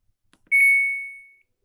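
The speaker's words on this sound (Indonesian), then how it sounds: "Tapi kalau di start ada bunyi bip 2 kali." A single clear electronic beep from a Samsung washing machine's control panel when start is pressed: one steady high tone lasting under a second, close and alone in a quiet room.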